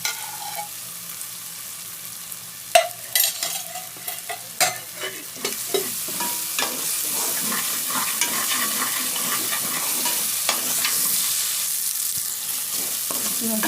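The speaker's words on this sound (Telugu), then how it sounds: "అల్లం తలగడ్డ పేస్ట్ కూడా బాగా ఫ్రై అయిపోయింది" Ginger garlic paste stir-fried in oil for a prawn curry, with a steady sizzle under repeated scraping and clinking stirs that grow busier toward the end; no talking.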